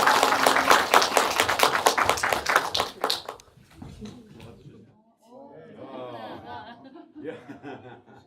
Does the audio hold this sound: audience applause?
yes